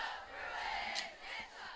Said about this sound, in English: And the crowd gets loud.